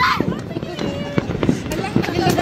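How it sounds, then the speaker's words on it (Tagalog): New Year fireworks bursting outdoors, a string of sharp cracks and booms scattered through the clip, heard under excited talking and shouting. "More fireworks!"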